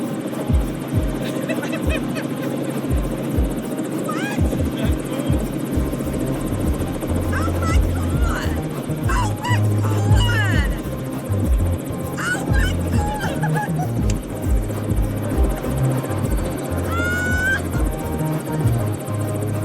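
A helicopter's steady low rotor thump runs throughout, with chattering and honking birds calling intermittently over it.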